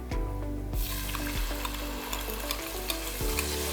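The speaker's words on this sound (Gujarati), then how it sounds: "હવે આપણે એમાં ગ્રેવી એડ કરી દઈશું" Gravy poured into hot tempering of curry leaves, dried red chillies, mustard and cumin in a pan sizzles loudly and steadily, with repeated stirring scrapes at a regular pace, close and with no talking.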